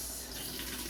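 Tap water running steadily into a sink while food is washed, a brief close hiss of flowing water at low level with no talking.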